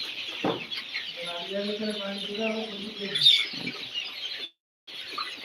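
Ninety-day-old layer hens on a Khulna poultry farm, clucking in a drawn-out rising call among scattered chirps from the flock, fairly close, with a brief silence near the end.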